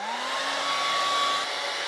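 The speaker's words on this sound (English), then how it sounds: "I will pick up the hairdryer" A handheld hair dryer blows in one steady, close, continuous whoosh with a faint whine, used for drying freshly cleaned Singer 201 sewing machine parts.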